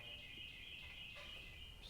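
A mockingbird calls outside with a rapid gobbling turkey-like rattle, a sustained, fairly distant outdoor bird call running unbroken over low background noise.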